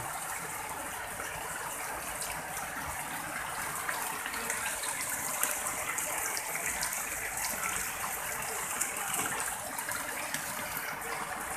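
A steady wash of rushing, gushing water continues without a break as heavy rain floods into houses and shops in Konabari, Gazipur. It stays moderately loud and even throughout, with no voices.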